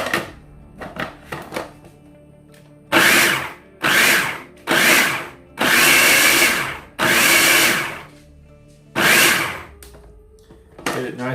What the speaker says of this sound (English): We're just going to throw these all in our blender and get them blended up